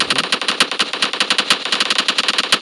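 Rapid automatic gunfire in a video game, a loud, close burst of evenly spaced shots running nonstop.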